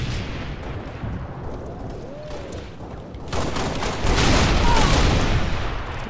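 Rapid gunfire from the video game Halo rattles in dense, continuous bursts that swell louder toward the end, with a player talking faintly beneath the shooting.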